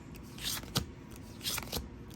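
A tarot card deck being shuffled by hand, with soft riffling swishes and a couple of sharp snaps repeating in a quick rhythm, close and fairly quiet.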